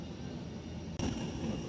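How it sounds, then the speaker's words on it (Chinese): A small propeller airliner's engines drone loudly and continuously on the airport apron, a steady broadband roar that jumps abruptly louder and brighter partway through. "飞机的引擎声"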